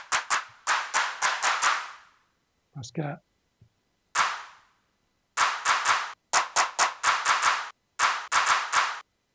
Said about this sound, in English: maybe you should make a different clap sound